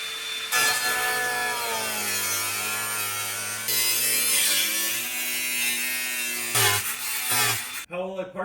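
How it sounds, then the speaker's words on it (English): A power saw cutting open the floor of a Mercedes W124 E320 wagon, a harsh close whine with buzzing reciprocating strokes that bog and recover, stopping briefly near the end. "we're gonna cut open the floor"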